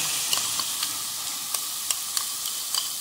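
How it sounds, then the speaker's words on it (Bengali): Spinach paste hits a pan of frying paneer and spices with a loud, continuous sizzle, broken by a few sharp scrapes and clicks of a spoon stirring the mixture. "নেড়ে আমি এবার পালং শাক বাটাটা এর মধ্যে ঢেলে দিলাম।"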